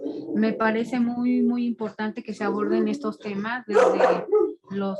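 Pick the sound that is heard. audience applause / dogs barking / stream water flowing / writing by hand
dogs barking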